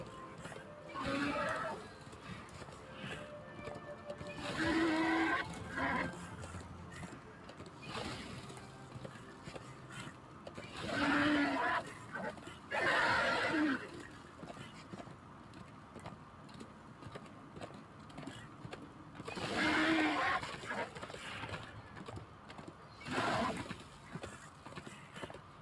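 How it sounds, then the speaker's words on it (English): A horse in the Darksiders 2 video game snorts and neighs in several loud bursts spaced seconds apart over a steady low game ambience, with someone talking quietly at times. "Give me the horse back."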